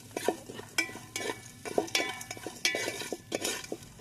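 Fennel, fresh coconut pieces and a torn bay leaf dry-roast in a pan, with quick rhythmic scraping and clattering strokes of a spatula, close and fairly quiet, no talking.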